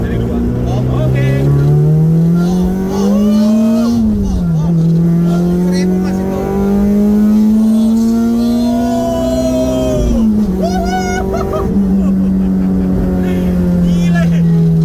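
A Honda Civic EG6 engine revs hard through the gears, a loud rising whine that climbs, drops at each shift and climbs again, with people talking inside the car.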